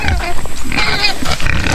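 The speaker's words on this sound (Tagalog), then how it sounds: "Ay, mga baboy tapos ng kumain." Loud, close grunting and snorting from pigs that have just finished eating, rough and overlapping in short bursts.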